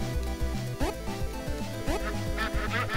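Cartoonish duck quacks from the PewDiePie: Legend of the BroFist video game, repeated in quick bursts over a busy bed of game music and sound effects, loud and close.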